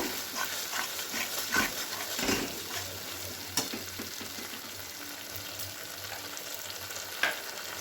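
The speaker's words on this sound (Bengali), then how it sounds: "আর পোস্ত বেটে রেখেছিলাম সেটা ওখানে অ্যাড করে দিলাম আবারও খুব ভালো করে নাড়াচাড়া করে নেব" Eggplant curry with ground mustard, green chili and poppy seed paste sizzles quietly in a pan while a utensil stirs and scrapes, with occasional soft clinks against the metal.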